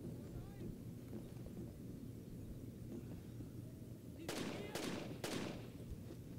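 Three sharp gunshots in Rainbow Six: Lockdown crack out in quick succession near the end, sitting over a low, rumbling background and faint voices.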